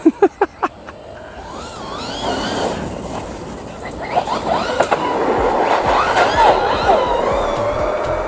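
An FMT10 RC truck on a 4S battery runs at full throttle. A few sharp clicks give way to a loud, close electric motor whine that rises and wavers in pitch as it drives.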